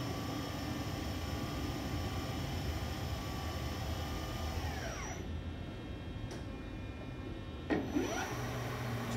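The spindle of a Mighty Viper PRW-5340 bridge-type CNC vertical machining center whines steadily at close range, its tones sweeping down as speed changes, then rising again near the end.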